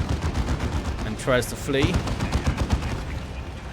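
Rapid gunfire and battlefield shots during a one-on-one match of the strategy game Dawn of War 2, including Venom cannons firing from a Tyranid Venom Brood. Dense staccato bursts play under a caster's fast commentary.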